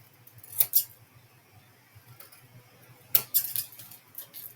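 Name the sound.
cutting paper with scissors for decoupage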